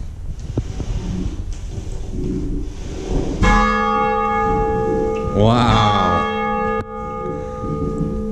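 A church bell rings inside a church converted into a home, striking loudly once and leaving a long sustained ringing tone. Background noise and brief talking come before the strike, and a voice exclaims during the ring.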